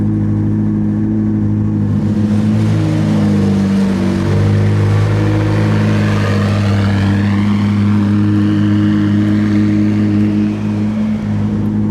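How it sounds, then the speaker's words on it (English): McLaren 675LT supercar pulling away in first gear, a loud, close engine drone with shifting low harmonics as it moves off, steady throughout with no talk. "Into first. Handbrake will auto-release as you drive forwards."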